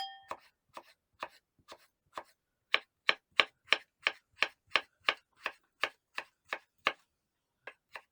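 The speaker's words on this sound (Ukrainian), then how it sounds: "Картоплю теж порізати міленькими кубиками." A knife dicing potatoes into small cubes taps out a steady chopping rhythm on a board, starting light then growing louder and faster, about twenty close, crisp strokes.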